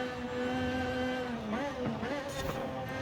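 A mid-engine, rear-wheel-drive Lotus being driven on a track, its engine holding a steady tonal drone from inside the car, then shifting pitch as the revs rise and fall near the end.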